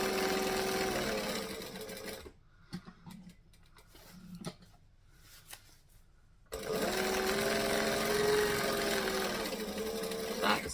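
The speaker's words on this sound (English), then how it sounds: "We're going to stitch, we're going to back stitch." A sewing machine stitches and back stitches fabric panels: a close, steady mechanical whir runs for a couple of seconds, stops for a quiet pause with soft handling noises, then resumes with another sustained burst of rapid stitching.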